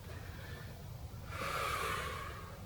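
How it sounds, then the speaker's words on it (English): A deep breath during a yoga stretch: a quiet breath in, then a longer, louder airy exhale through the mouth, close and alone over soft room noise. "Take 2 more deep breaths here."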